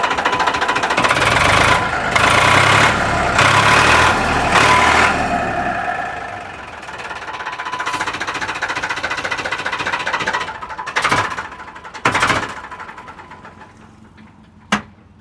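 A nearby Farmtrac tractor's diesel engine idles with a steady knocking chug, fading down partway through, followed by a few sharp clanks and bangs.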